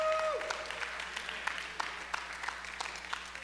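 A church congregation at a Sunday service claps and cheers. The applause is loose and scattered, with an indoor crowd murmuring behind it.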